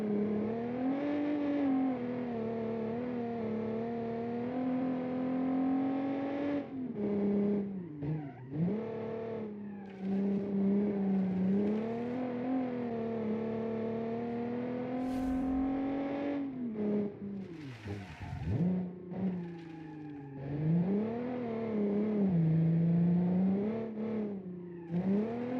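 V6 engine of a 1978 sports car racing at speed, a loud continuous engine note rising and falling through revs and gear changes, with brief tire squeal moments, close and alone without talk.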